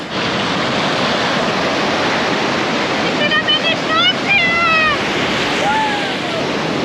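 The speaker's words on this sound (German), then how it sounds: "die Brandung hat hier ganz schön übel. Also mit Kraft kommt die hier an" Powerful surf pounds a beach in Mozambique, a loud, continuous roar of breaking waves that fills the whole clip, with excited voices and squeals rising over it midway.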